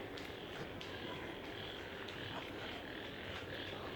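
Frogs or toads call in the evening near Marina Bay Sands, a faint, dense outdoor chorus of soft, repeated croaks with no voices.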